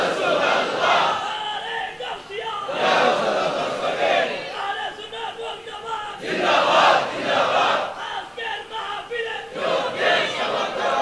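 Large crowd loudly chanting a slogan in unison at a religious gathering, repeated surging shouts in a rhythmic call pattern, loud and close.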